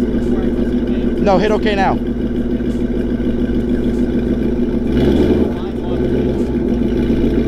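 A Whipple-supercharged car engine revs steadily and loudly at a drag strip during a burnout attempt, a constant heavy drone with a brief deeper surge midway, while a person speaks briefly over it.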